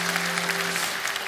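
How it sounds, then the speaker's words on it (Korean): A church congregation applauding during a worship service, with a dense, even wash of many hands clapping at once and a faint steady hum beneath it. "왠지 박수를 칠 것 같은 분위기입니까?"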